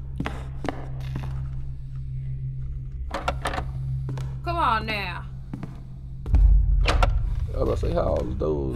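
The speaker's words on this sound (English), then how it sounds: "Doors closed." Heavy mechanical doors sliding shut in the horror game Case: Animatronics, a loud low rumbling thud around the middle of the clip over a steady humming drone, with scattered short clicks and a person talking at times.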